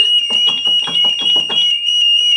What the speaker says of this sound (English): I thought I turned off the alarm.